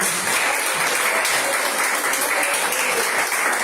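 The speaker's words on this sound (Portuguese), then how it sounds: "E toda a igreja pode bater palmas em forte para Jesus." A church congregation applauding together, a dense, steady wash of many hands clapping throughout, close and loud with no break.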